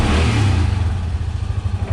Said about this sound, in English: rev it up a little bit.